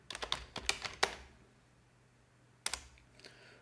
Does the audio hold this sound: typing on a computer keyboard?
yes